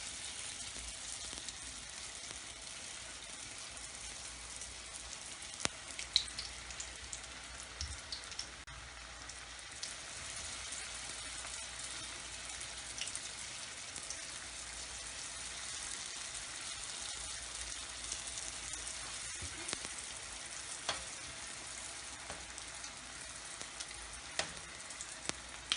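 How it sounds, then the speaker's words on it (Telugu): Paneer cheese rolls deep frying in hot oil over a medium flame: a soft, even bubbling crackle like light rain, with scattered pops throughout, fairly faint and steady, no voices. "నేను వీటిని డీప్ ఫ్రై చేస్తున్నాను."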